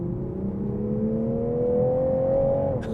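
A 2021 Toyota Supra GR 3.0 Premium engine accelerates in sport mode, its pitch climbing steadily in one smooth pull before easing off, heard from inside the car, close and sustained.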